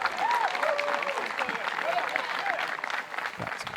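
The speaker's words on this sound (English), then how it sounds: "Got some claps there." Scattered claps from disc golf spectators at a pro tour championship final, a thin steady patter running under a commentator's voice throughout.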